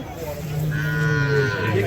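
A bull lets out a loud, close, sustained moo at the Kundarapalli cattle market, the low drone swelling into a strong bellow, with faint crowd noise behind.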